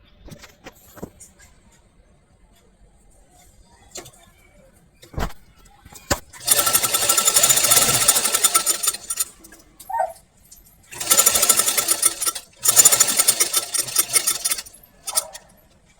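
A sewing machine stitches a cut fabric strip onto a small child's frock, running in several fast, rattling bursts of a few seconds each, separated by quiet pauses and faint handling clicks.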